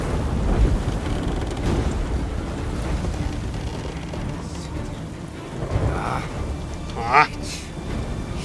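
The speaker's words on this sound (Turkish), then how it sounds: "fırtına var lan" A rainstorm from the Uncharted video game, with dense steady rain and a rumbling thunder-like roar that swells now and then. A brief louder crack comes near the end, and voices talk over it.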